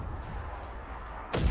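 Artillery fire in a video game lands as one heavy, booming blast at the end, loud and close, after a stretch of low rumbling background noise.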